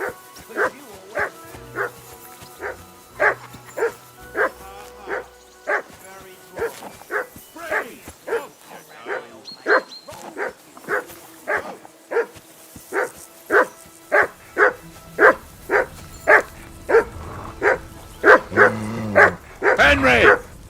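Dog barking in the video game Kingdom Come Deliverance 2, a long run of loud, evenly spaced barks repeating about twice a second, with low speech and game sounds underneath early on.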